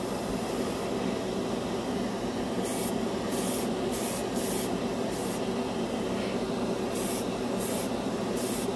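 An airbrush spraying Vallejo Mecha Color paint onto a scale model hisses steadily, with brief louder spray bursts recurring in short pulses over a continuous airy background.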